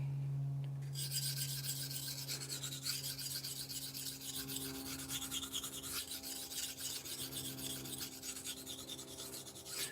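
A knife blade scraping steadily across a sharpening stone, close and continuous, a rhythmic rasping grind with no voices over it.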